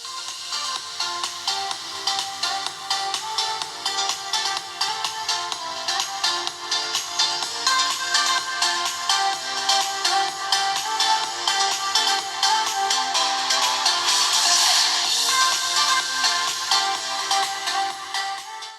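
A melodic ringtone plays steadily through the dual speakers of a Moto G52 phone, bright and a little thin, with a rhythmic pulse and no talking over it.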